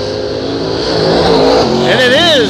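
A race car at Hattiesburg Speedway roars out of turn four, its engine note climbing and shifting loudly as it accelerates past, with an announcer talking over the continuous engine noise.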